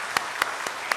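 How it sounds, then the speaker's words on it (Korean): Scattered hand claps ring out in a church service, about four distinct, fairly faint claps in just over a second, with no speech. "큰 박수 바랍니다"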